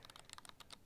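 Camera buttons and dials on a LUMIX S1RII click and lock in a quick, crisp series of small taps, close and fairly quiet, heard alone.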